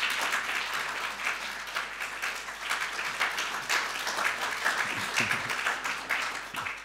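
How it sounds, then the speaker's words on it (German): A full, continuous wash of audience applause for conference panelists at a German culture conference, dense and sustained at moderate volume, with no distinct voices over it. "ich bitte um einen frenetischen Applaus für jeden Einzelnen von Ihnen"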